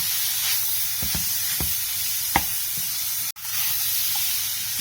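Grated carrots for gajar ka halwa fry in a pan with a steady, close sizzling hiss, broken by a few soft knocks and one brief dropout.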